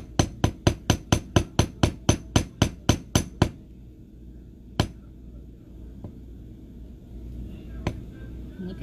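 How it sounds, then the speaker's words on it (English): Metal hammer striking a wire chain link for beadwork, about fourteen sharp, evenly spaced taps in quick succession, then two isolated louder strikes after a pause, close and clear with no talking. "And you can hammer all of it if you want. You can hammer some of it."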